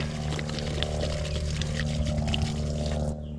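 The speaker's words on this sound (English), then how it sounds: "Oh, that water going out." Salt water rushes and gurgles steadily as it drains away, a continuous nearby flow that cuts off abruptly at the end.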